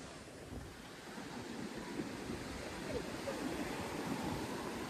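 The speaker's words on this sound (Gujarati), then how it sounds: "તો જો દરિયાના મોજા" Sea waves wash steadily onto the shore at Somnath beach, a continuous broad rushing surf with wind buffeting the microphone.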